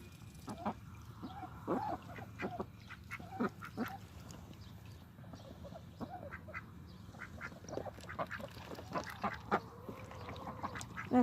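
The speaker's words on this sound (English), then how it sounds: "They're making their happy duckling noises." Spring ducklings peep and chirp in short, high, soft calls scattered over a quiet background, with a few duck quacks further off.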